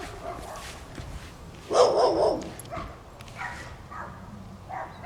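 A single loud bark from a Miniature Pinscher stands out near the middle, followed by a few fainter yips and whimpers against a quiet background.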